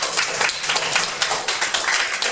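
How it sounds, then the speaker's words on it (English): Audience applause in a speech-club meeting room, a dense steady patter of many hands clapping close by, continuing evenly for a couple of seconds with no voices over it. "let's give him a big round of applause"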